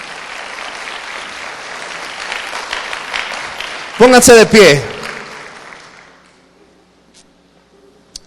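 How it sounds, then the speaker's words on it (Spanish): A church congregation gives sustained, moderately loud applause that carries on for a few seconds; then someone speaks over it briefly, and the clapping thins out and fades to quiet. "Puede darle un aplauso al Señor Jesús."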